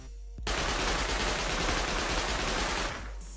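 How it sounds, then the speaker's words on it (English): Sustained automatic SMG fire in the survival game Rust, a continuous loud rapid burst lasting about two and a half seconds, starting abruptly and cutting off cleanly, with no talking. "Now the SMG and the laser"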